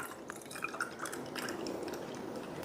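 Water being poured into a glass with drips, gurgles and a filling trickle, close and moderately quiet, with small clinks along the way.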